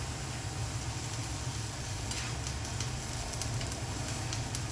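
Onions tossed onto fried eggplant in a home kitchen pan, giving a steady close sizzle with a soft continuous crackle and a few brighter spits throughout, no voices.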